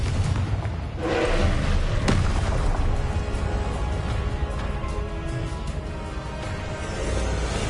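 A Confringo fire-blast spell explodes in the Hogwarts Legacy video game, a loud booming blast with a sharp crack, followed by a sustained rumbling roar that slowly fades.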